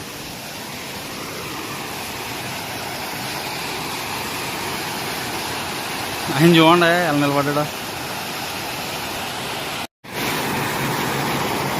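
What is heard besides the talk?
Ananthagiri waterfall, water sliding over flat rock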